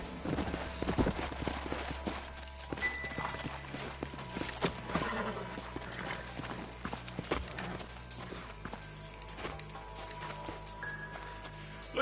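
Horses in the Red Dead Redemption video game, hooves clip-clopping steadily at close range with an occasional neigh, over a low rumbling background and a faint distant gunshot or two.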